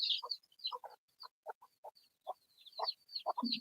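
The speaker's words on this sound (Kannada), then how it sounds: "ಅಯ್ಯೋ ಕೋಳಿ ಪಾಪಗಳು ನೋಡ್ರಿ ಹೆಂಗವೆ" Chickens cluck softly nearby in short bursts, mixed with thin high peeping calls of small chicks, with a few quiet pauses between sounds.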